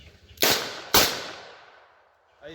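Two sharp, loud shots from a Smith & Wesson Model 66 K-frame revolver firing .38 Special, about half a second apart, each followed by a decaying outdoor echo.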